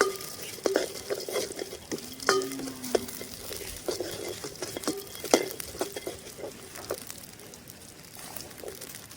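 Peanuts stir-fried in a pan with fried plums while making aval laddu, with a spoon scraping and clacking against the metal in repeated strokes over a soft sizzle. The sound is fairly quiet and close, with no talking.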